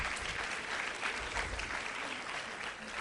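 An education summit audience applauds school-age parents in the room, a dense, even wash of many hands clapping that holds steady for the whole stretch at moderate distance.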